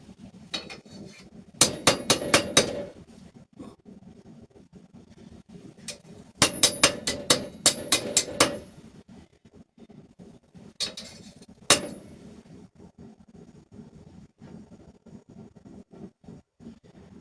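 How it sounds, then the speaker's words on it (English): Light hammer taps ring out on steel stock for a fighting knife in a home workshop, coming in quick bursts of sharp metallic strikes with quieter scattered clicks between. "So all it is just light taps right now. I'm not really having to swing on this thing."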